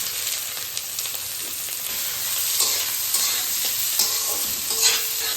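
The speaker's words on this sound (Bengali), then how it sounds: "তারপরে একে একে সবজিগুলোকে ভেজে নেব। প্রথমে দেব গাজর," Carrots fry in white oil in a wok (kadai) with continuous loud, bright sizzling and steady stirring and scraping throughout, no voices.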